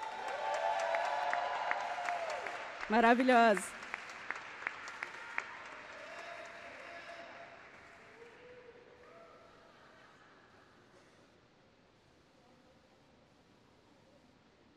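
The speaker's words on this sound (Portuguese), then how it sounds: "Uma salva de palmas," An audience at a solemn legislative session for the Day of Black Latin American and Caribbean Women breaks into loud, dense applause that gradually fades away. A voice speaks briefly during the clapping.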